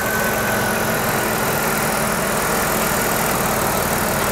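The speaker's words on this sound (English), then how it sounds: "Both cooling fans are working, the compressor clutch is working." A 1998 Chrysler engine running with the AC compressor clutch engaged and both cooling fans spinning, a loud steady broadband whir and hum with a low engine drone, close up and continuous throughout.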